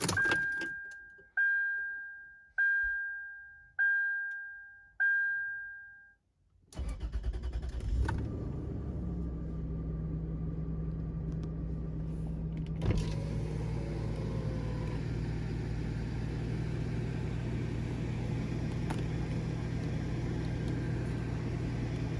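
A 2000 Toyota 4Runner with the 5VZ V6 opens with five chiming key-in warning tones, then the engine cranks and catches, settling into a steady close idle hum for the rest, with no talking.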